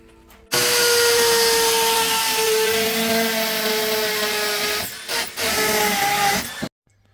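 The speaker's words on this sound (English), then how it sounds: "we'll take use of his better drill and get these on the wall" A power drill runs steadily at high speed for about six seconds while mounting items on a wall at home, starting abruptly, briefly dipping twice near the end, then cutting off.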